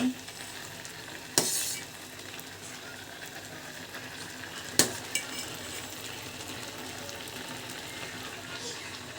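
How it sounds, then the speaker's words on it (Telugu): Maggi noodles with green chillies and onions cook in a pan, giving a low, steady sizzle and bubbling throughout. A couple of sharp metallic clinks from a utensil on the pan stand out briefly. "ఇక్కడైతే మ్యాగీ చేస్తున్నాను"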